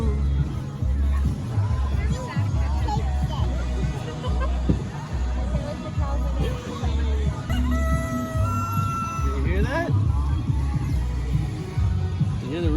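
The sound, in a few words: rooster crowing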